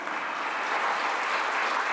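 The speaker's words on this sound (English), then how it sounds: "Let's give her a round of applause." Applause on the floor of the California State Senate, a sustained round of clapping from legislators and guests, even and fairly close, swelling slightly toward the end.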